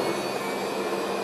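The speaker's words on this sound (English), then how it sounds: "is the engines of this aircraft going into reverse." Jet engines of a shuttle training aircraft roar steadily as they go into reverse, a loud, even rushing noise heard alone without any talk.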